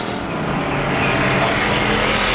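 Ford Bomber race cars roaring around the Arizona Speedway oval during a heat race, a dense, loud, continuous engine drone with no clear pauses.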